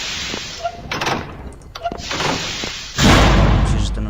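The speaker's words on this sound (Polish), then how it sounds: "Otworzył sobie drzwi." A door opening and then slamming shut in the horror game SCP: Containment Breach, with scattered mechanical clanks before a loud, heavy slam near the end.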